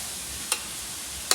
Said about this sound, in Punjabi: ਹੁਣ ਆਪਾਂ ਨਾ ਗਾਜਰਾਂ ਨੂੰ ਕੜਾਹੀ ਵਿੱਚ ਪਾਉਣ ਲੱਗੇ ਆ